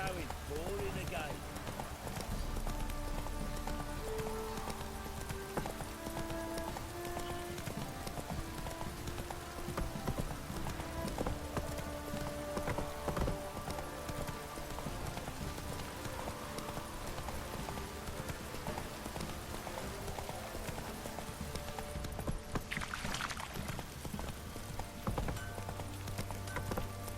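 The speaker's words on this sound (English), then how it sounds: "It's blowing, pouring again." A horse gallops through rain and wind in The Witcher 3, its rapid hoofbeats running steadily under a constant wash of weather noise, with characters talking over it.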